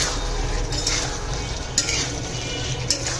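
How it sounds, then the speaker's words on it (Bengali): Boiled potatoes being stirred into yogurt in a pan for a Bengali doi aloo curry: a steady soft scraping and squelching with a few light metallic clinks of the spoon against the pan. "একবার এই আলুগুলোকে দইটির সাথে ভালো করে মিশিয়ে নিচ্ছি"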